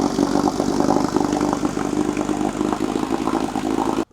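A 70-year-old outboard motor idles steadily with an even, slightly rattling putter, close by and continuous before cutting off abruptly.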